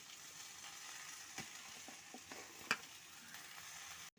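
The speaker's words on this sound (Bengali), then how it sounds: "এখন আমি পালং শাকটা দিয়ে দিচ্ছি। পালং শাকটা দিয়ে ভালো করে নেড়ে নেব।" Spinach being stirred in a hot frying pan for a Bengali palong ghonto, a quiet steady sizzle with scattered soft scrapes and one sharper clack of the utensil against the pan.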